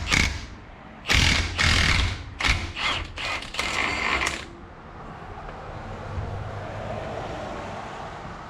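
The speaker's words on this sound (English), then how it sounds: "Let's see if my 3/4 inch impact will take this off here." A 3/4 inch Milwaukee impact wrench breaks loose a bolt on a 1966 Impala 12-bolt rear axle: several loud, close bursts of hammering over about three seconds, then a quiet shop hum.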